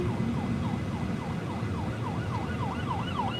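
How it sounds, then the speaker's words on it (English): An ambulance siren wails in a repeating up-and-down sweep, steady and fairly close, over the rumble of road traffic heard from inside a moving car. "thankfully that ambulance was going that way anyway"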